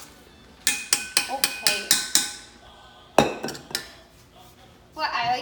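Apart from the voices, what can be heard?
mixing eggless chocolate chip cookie dough with a spoon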